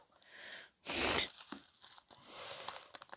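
A quiet rustle gives way to one quick, loud rip of thin plastic being torn open, followed by soft crinkling.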